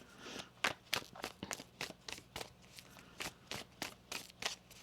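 A deck of tarot cards is shuffled by hand, giving quick, crisp riffling bursts in an irregular rhythm, close and quiet with no talk over it.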